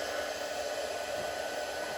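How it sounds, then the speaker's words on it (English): A heat tool blows with a steady, even whoosh while heat-setting embossing powder on a stamped stencil card, close and constant with no voices. "we're going to just heat set this now"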